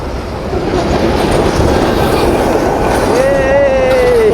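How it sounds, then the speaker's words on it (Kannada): A train approaching on an old railway track beside the sea near a station in Sri Lanka, a loud steady rumble building throughout, with a high squeal of wheels rising near the end and a voice speaking over it. "ಅಲ್ಲಿ ಬರ್ತಾ ಇದೆ ಟ್ರೈನ್ ಇವಾಗ ನೋಡಿ"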